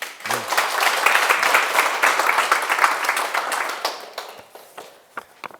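An indoor audience at a talk applauds together, a dense, loud burst of clapping that holds for a few seconds and then thins out into scattered claps.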